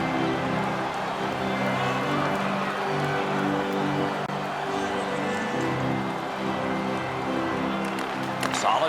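Crowd noise from the NHL 16 hockey video game after a big hit, a steady, excited arena roar under continuous commentary.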